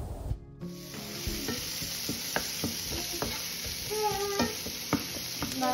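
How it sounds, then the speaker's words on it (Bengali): Onions fry in a pan for street-food style chickpea ghugni, a close, steady sizzle broken by scraping stirs of the spatula and small pops of oil. "পেঁয়াজ ভেজে নিচ্ছি"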